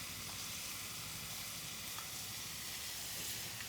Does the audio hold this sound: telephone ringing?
no